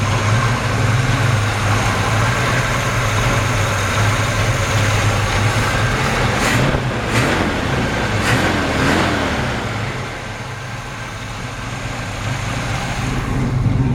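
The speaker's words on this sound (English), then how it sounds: "Really healthy engine." A 1952 Chevrolet 3100 five-window pickup with a rebuilt 350 V8 idles close by with the hood open, a steady, even low rumble with a slight dip near the end; no one speaks.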